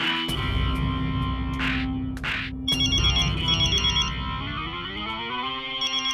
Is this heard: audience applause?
no